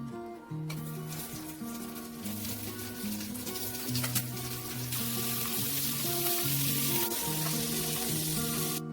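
An egg fries in a pan for kimbap, giving a steady, close sizzle and crackle that grows slightly louder over time, with a continuous musical backing underneath and no talking.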